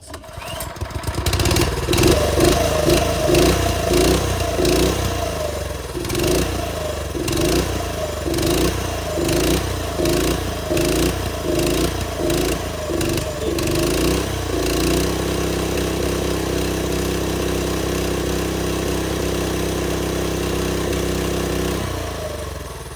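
A TrailMaster go-kart engine, just repaired at the carburetor, runs loud and close, chugging in a steady pulsing rhythm before settling into a smoother, even drone for the final stretch, with no voices over it.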